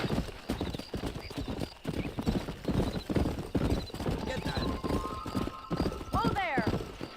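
Horse galloping while being ridden in the video game Red Dead Redemption, with rapid, rhythmic clip-clop hoofbeats throughout and a whinny near the end, joined at times by a voice.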